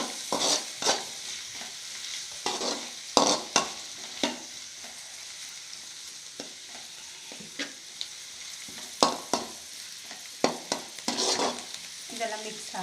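Egg fried rice with fresh coriander being stirred in a pan, with repeated scraping and clattering strokes in an irregular rhythm over a soft sizzle, close and fairly loud with no talking.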